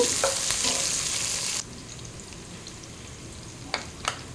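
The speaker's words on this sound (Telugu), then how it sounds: "సన్నగా పొడవుగా కట్ చేసుకుని వీటిని దోరగా వేయించుకోవాలి" Thinly sliced onions frying in hot oil for paneer biryani, a loud bright sizzle for the first second and a half, then a quieter hiss with a couple of sharp stirring clicks near the end.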